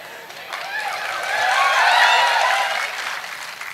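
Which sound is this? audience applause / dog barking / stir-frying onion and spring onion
audience applause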